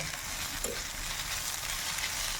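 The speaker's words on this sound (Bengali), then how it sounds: "এবার ডিমটাকে ঝুরি ঝুরি করে ভেজে নেব" Eggs are stir-fried and scrambled with spices and salt in a pan for a bitter gourd and egg curry, giving a steady close sizzle with faint stirring throughout and no talk.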